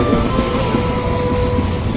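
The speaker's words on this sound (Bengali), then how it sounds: "আর চলছে বোট" A steady engine drone of a motorboat running continuously on the Teesta River, loud and close, with a constant hum and no breaks.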